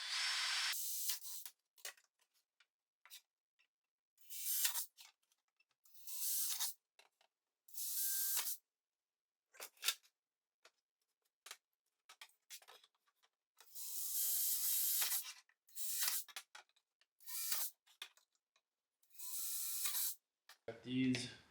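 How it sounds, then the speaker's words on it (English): A drill with a 1/4 inch bit bores holes through the outer skins of a Ford Bronco wide body kit, heard close as a string of short, hissing bursts of a second or two, separated by quiet pauses. "we're going to go ahead and drill the outer skins now"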